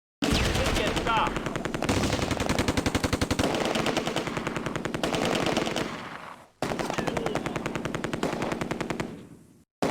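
Heavy automatic gunfire from the video game Close Combat: A Bridge Too Far, rapid continuous bursts that fill the scene loudly and break off briefly near the end before resuming.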